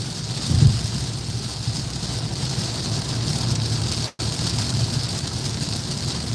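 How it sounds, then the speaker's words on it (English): Heavy rain pouring down during a drive home, a steady dense hiss of rain and road noise around the car with a brief rumble near the start and a momentary dropout, no one talking. "It is pouring rain."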